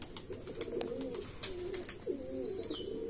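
Andhra Madrasi pigeons coo in a steady series of low, rolling calls, several rising and falling phrases close by, with faint chirps and outdoor background noise.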